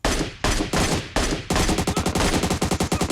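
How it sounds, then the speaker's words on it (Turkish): Gunfire in PUBG Mobile: a few heavy single shots ring out, then a fast automatic burst of rapid, evenly spaced rounds, loud and close. "Başka bir yerden sıkıyorlar."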